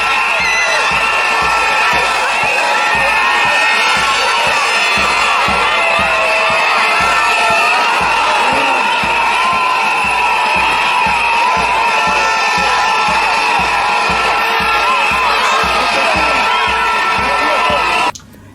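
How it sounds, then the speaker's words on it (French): A large crowd at a graduation celebration cheers loudly with shouts, whoops and whistles, a rhythmic pulse of clapping or chanting running underneath throughout, close and sustained before cutting off at the end. "Certaines manifestent leur joie à travers des cris et des sifflets."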